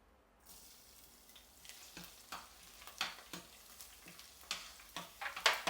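Finely chopped garlic sizzles in hot oil in a pan, with a steady crackling hiss that starts after a brief quiet moment. Sharp stirring scrapes and taps repeat irregularly and grow louder toward the end. No one speaks.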